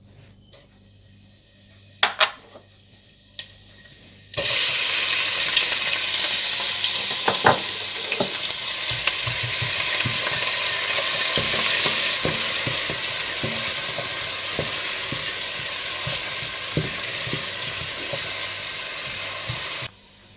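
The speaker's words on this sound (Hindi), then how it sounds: "घी गरम करें और इसमें साबुत ज़ीरा और प्याज डालकर हल्के ब्राउन कर लें" A loud, steady sizzle of onions and cumin frying in hot ghee, starting abruptly after a few quiet seconds with light clinks and stirring scrapes.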